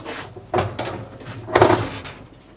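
An oven door on a cooker being lifted off its hinges, giving two or three short clunks and knocks of metal and glass at close range, with a louder rattling handling bump near the middle.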